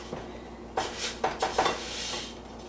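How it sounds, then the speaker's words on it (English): A spoon scraping and clanking against a pot while stirring a thick, stiffening mixture of cooling sugar, peanut butter and Rice Krispies, a few irregular close scrapes and knocks with no voices. "It does get very hard to stir because that sugar is cooling down, and it gets very tough after a while."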